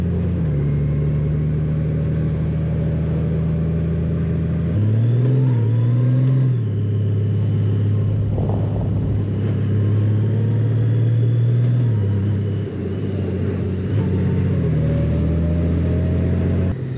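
A motorcycle engine idling and revving in a street in La Roche-en-Ardenne, Belgium, heard close and loud with a steady throb, several rising revs and a brief pitch shift midway, without talk.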